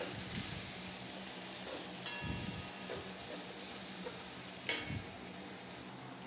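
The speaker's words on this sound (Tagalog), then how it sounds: "Next naman po, ang ating bawang, sibuyas. So, natin igigisa." Garlic and onion sauté in a pan with a soft continuous sizzle and occasional scrapes and taps of a spatula, fairly quiet and close, with no talking.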